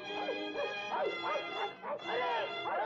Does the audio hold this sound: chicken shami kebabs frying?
no